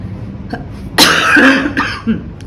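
A loud burst of coughing from a nearby person, one harsh cough followed by a couple of shorter rasping coughs, with no talking.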